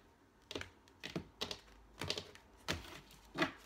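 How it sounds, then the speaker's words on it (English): A Rider-Waite tarot deck being shuffled by hand gives about six quiet, crisp card slaps and riffles at roughly half-second intervals, close up with no talking. "Just shuffle the cards a couple of times, cut the deck"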